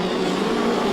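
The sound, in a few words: midget race cars racing at Lismore Speedway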